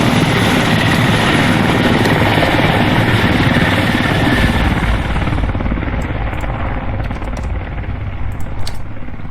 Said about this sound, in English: I'm going to follow the rogue heli and see where this thing goes